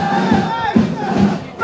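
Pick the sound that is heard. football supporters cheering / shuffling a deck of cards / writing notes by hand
football supporters cheering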